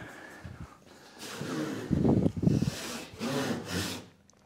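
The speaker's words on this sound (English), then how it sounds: "Now we have two lines to keep our saw nice and straight, so let's continue on." A hand saw cuts through a spalted beech board held in a vise, giving rough, rhythmic rasping strokes that swell and fade, close and fairly loud, with no talking over them.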